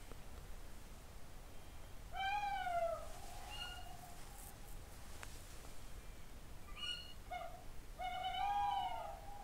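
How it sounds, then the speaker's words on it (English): An owl call played from a phone outdoors at a wild hammock campsite sounds in two clear hooting, wavering bursts separated by a quiet pause, moderately close against soft background hiss. "So the call you're sending out now, is that a female or a male owl?"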